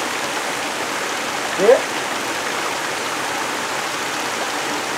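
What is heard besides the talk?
rainwater waterfall pouring through an opening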